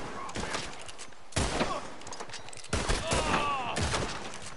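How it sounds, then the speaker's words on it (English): Heavy gunfire from Red Dead Redemption 2 during a train hijacking shootout, with two or three loud, sharp blasts whose echoes ring out, over a busy game soundscape with a voice talking. "Oh, a shotgun."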